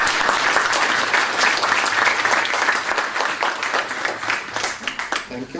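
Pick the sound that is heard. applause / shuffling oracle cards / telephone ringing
applause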